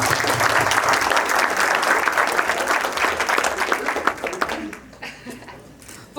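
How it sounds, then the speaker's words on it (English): Wedding guests give a round of applause, loud and sustained clapping that thins out into scattered claps near the end, with some voices faintly mixed in. "deserves a round of applause"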